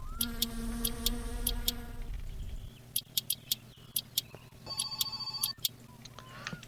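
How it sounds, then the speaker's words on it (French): A telephone rings in the My Summer Car video game as repeated short bursts of ringing tones, spaced apart in a steady pattern over low rumbling game ambience, with no one talking. "Le téléphone ressonne."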